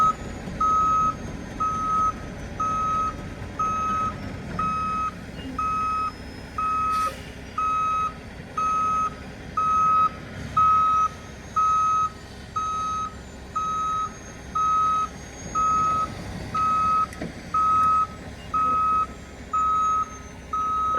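A truck reversing with a trailer during a delivery sounds a loud, regular reversing beep over the rumble of its engine, repeating steadily throughout.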